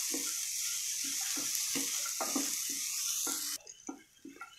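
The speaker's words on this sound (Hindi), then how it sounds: "इन्हें अच्छे से सौते करना है पहले" Cashews and melon seeds sauté in a hot pan for a paneer lababdar gravy, a steady close sizzle with a series of rhythmic stirring scrapes, the frying hiss dropping away near the end while a few scrapes continue.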